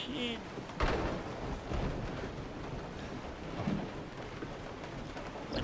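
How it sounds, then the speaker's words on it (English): In the Resident Evil 7 game on PC, heavy rain hisses steadily and loudly throughout, with low thunder rumbles rolling underneath and swelling at times. "I don't want to go out and it's raining."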